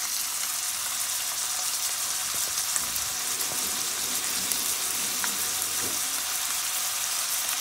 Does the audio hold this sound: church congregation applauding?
no